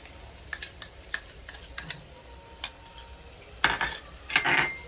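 A spoon clinks and scrapes in a pan as undhiyu vegetables with green chickpeas and tomato gravy are stirred, a series of sharp taps followed by wetter mixing sounds over a faint sizzle.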